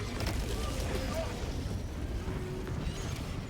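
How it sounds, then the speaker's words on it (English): Bug artillery explosions burst in Helldivers 2, with rolling rumbling booms and crackling blasts close around, dense and continuous, with faint voices underneath. "I'm surrounded by explosions."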